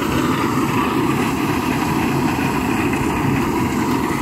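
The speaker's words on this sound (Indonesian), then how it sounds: "mesin panen jagung" A modern corn harvesting machine running in a field, a loud dense continuous mechanical roar and rattle, steady and close with no pauses.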